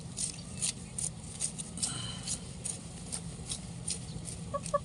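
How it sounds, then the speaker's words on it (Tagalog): Backyard chickens gathering on a rainy day in a garden patch once planted with luffa, giving scattered soft clucks over a steady hiss of rain. "ayan na yung mga manok, naglapit-lapit na."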